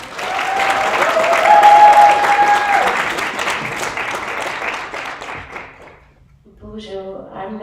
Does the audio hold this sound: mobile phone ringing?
no